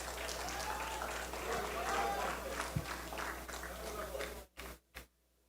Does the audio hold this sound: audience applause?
yes